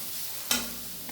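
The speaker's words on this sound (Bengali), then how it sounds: "এই যে খারকুন পাতা, যেটাকে বলে ঘ্যাটকুল পাতা, এটা এই যে ভাজা করছি" Ghetkol (kharkun) leaves fry in a pan with a sudden hissing sizzle that flares up once and then settles into a steady, softer crackle, heard close and without voices.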